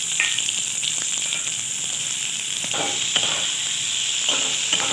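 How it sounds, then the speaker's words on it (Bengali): Chopped onion fries in hot mustard oil in a kadai, giving a continuous close sizzle with faint crackles and occasional light stirring scrapes, with no voices. "এটিকে আমি লাল করে একটু ভেজে নেব।"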